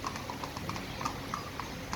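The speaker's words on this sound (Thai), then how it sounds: "ดูม้าที่สนามท็อตนะครับ" Horse hooves clip-clop in an even trotting rhythm on a trotting track while horses are exercised, a steady series of light, fairly faint hoofbeats with no talk.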